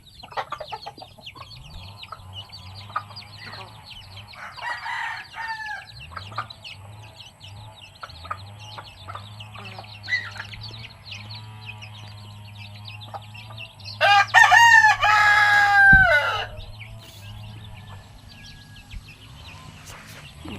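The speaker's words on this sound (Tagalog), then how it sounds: "Sa adlasan yung mga manok ko dito, uwi na lang tuwing gabi na." Backyard chickens cluck softly and intermittently at close range, with a rooster crowing loudly once partway through, other faint bird calls around them.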